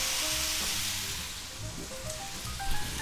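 Chuck steak sizzling in a cast iron skillet, a continuous crackling hiss with scattered pops, moderately loud and close, no voices.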